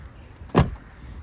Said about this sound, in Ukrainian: Закриваємо дверку і порожик ховається у нас в місці.